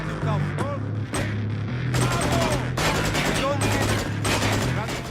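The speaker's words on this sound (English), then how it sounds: "That guy's shooting already." Gunfire in the video game Wheelman comes in rapid bursts of automatic shots, loud and close, separated by short pauses, over a steady low game drone with voices talking over it.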